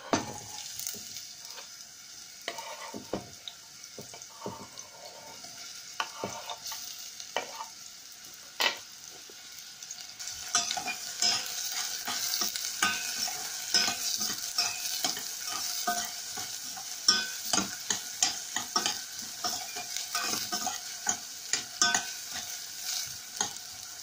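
Onion and garlic frying in a pan, a steady close sizzle that swells louder about midway through, broken by frequent scraping clicks of stirring; no one speaks.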